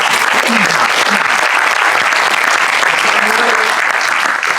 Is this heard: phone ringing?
no